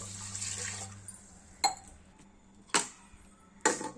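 A glass of water pours steadily into a metal pot with a pinch of turmeric for baby food, followed by three sharp clinks of utensils against cookware spaced about a second apart.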